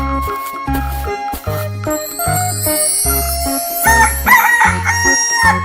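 A toy-like recorded rooster crows loudly over a bouncy, beat-driven tune with chimes and jingles, the crowing rising in the second half; no voices.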